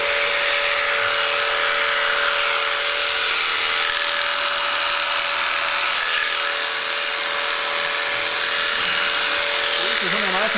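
Electric clippers shear a sheep with a steady, buzzing whine that runs close and unbroken throughout, and a voice speaks over part of it.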